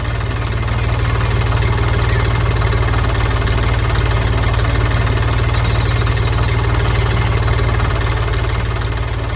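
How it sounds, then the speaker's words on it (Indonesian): A blue animated truck's engine drones steadily as it crosses a wide green farm field, a loud continuous low rumbling idle with a knocking throb, unbroken and close. "Truk biru sedang berjalan, melintasi ladang hijau yang luas dengan suara mesin yang riang"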